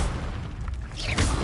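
The Confringo blasting spell in Hogwarts Legacy goes off as a dense, rumbling explosive roar, with a sharper burst near the end over continuous combat noise.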